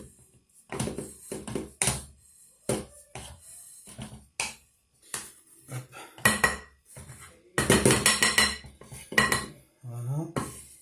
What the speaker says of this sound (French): je vais commencer à prendre mon fouet et vraiment à m'en servir